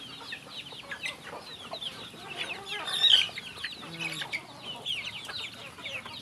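A flock of chickens with their young chicks kept for raising, clucking and cheeping close by in a busy, overlapping chorus, with brief louder calls rising above the constant chatter.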